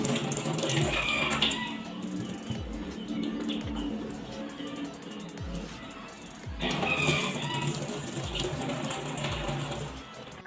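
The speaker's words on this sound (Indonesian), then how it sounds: "kita harus mencuci tangan terlebih dahulu menggunakan air mengalir" Hands being washed under running tap water, a steady broadband rush of flow that continues throughout at moderate level, with faint bird cooing and chirps in the background.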